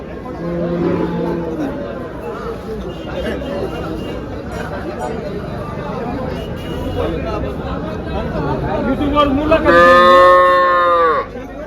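Cows moo at a busy cattle market in Dhule where HF and Jersey cows are sold, with a loud, drawn-out moo near the end over steady crowd chatter and hubbub; a lower call also sounds near the start.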